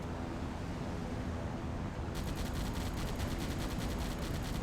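Deck guns on a submarine in Silent Hunter 5 fire at an aircraft, heard as a steady rapid stutter of shots over a loud, continuous rumble of sea and engine.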